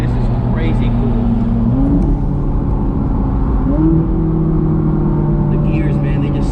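A 2012 Ferrari 458 Italia with its 600 hp V8 pulls hard from inside the cabin, the engine note climbing steadily and stepping up after quick gear changes, loud and continuous beneath occasional speech.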